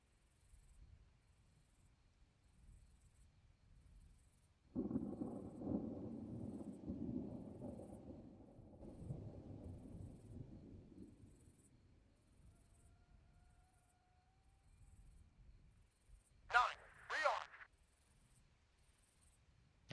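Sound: thunderstorm with thunder in ARMA 3 video game

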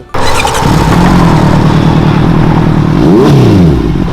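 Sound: big bike motorcycle engine with aftermarket exhaust pipe

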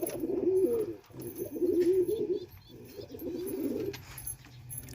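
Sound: pigeons cooing in a breeding loft

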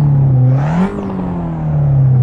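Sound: Fiat 500 Abarth engine revving in Kunos racing video game

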